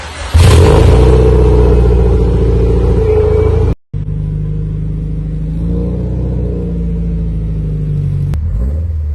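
A Subaru STi engine, fitted with new rods, pistons, mild cams and a Haltech engine management unit, cold starts and settles into a steady, loud rumbling idle, cutting out briefly midway before running on.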